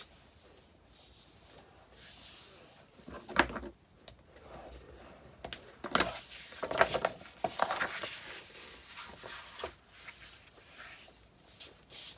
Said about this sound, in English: So just fold and burnish on all of the score marks.